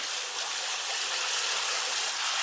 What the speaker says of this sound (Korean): 이렇게 물 샤워를 해주시는 거예요. 전체적으로 다 해주시면 됩니다.